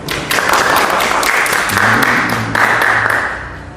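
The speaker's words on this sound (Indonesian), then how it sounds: "Tepuk tangan double track." Loud, dense audience clapping at a school podcast event in Semarang, a sustained burst of many hands that swells and holds for several seconds before easing off slightly at the end.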